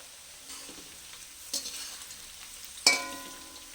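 Chopped green chilli fries in a blend of white oil and ghee, a quiet low sizzle punctuated by a few sharp clinks and scrapes of a spatula against the pan, no talk.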